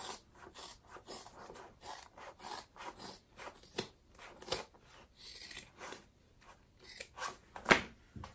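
Scissors snip repeatedly through the exterior fabric of a zip-top tote, trimming the seam allowance with short, close rasping cuts in an irregular rhythm, with no voices.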